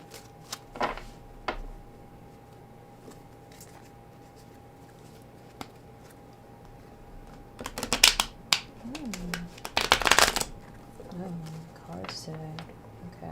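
Sharp bursts of card shuffling, riffling twice in quick succession amid scattered light taps and clicks, with a voice speaking briefly.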